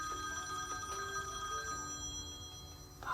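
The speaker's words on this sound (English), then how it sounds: "rudely interrupted by a spam call from Bristol" A phone rings with an incoming spam call, a few short electronic ring bursts sounding clearly over a low background hum, with no talk.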